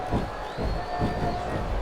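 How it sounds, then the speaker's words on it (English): A wrestling arena crowd in SmackDown vs Raw 2007 roars and cheers steadily throughout, a dense, continuous wall of voices with faint pulsing swells and no break. "This capacity crowd is making their opinions known tonight."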